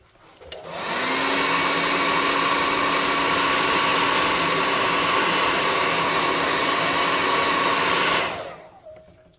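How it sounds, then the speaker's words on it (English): Hot air gun blowing steadily for about eight seconds to dry model flesh on a tabletop corpse pile, a loud, even whoosh switched on and off cleanly. "Now let's hit this with a hot air gun."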